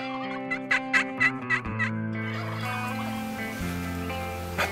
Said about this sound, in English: I'm surrounded by turkeys.